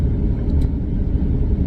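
Car on the road heading to a mechanic with a transmission problem, heard from inside as a loud, steady low rumble of engine and road noise.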